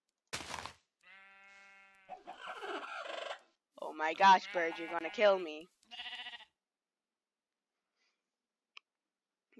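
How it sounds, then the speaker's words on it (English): Loud bleats and gobbling calls from video game farm animals, including a turkey, come in short separate bursts over a few seconds, with a person talking between them, then quiet. "These animals are very loud and very annoying."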